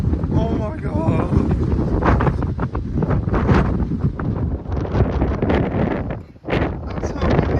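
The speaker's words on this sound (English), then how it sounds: "That's how windy it is." Strong wind in Sidari, Corfu, buffets the microphone in heavy, roaring gusts that nearly drown out everything else.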